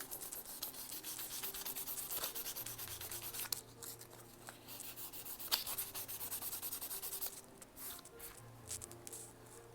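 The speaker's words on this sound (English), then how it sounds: "I'm just sanding it back off just to show where I filled in." Sandpaper rubs back and forth over a scratchboard surface to remove filled-in ink, a soft, close, steady scraping with occasional sharper strokes.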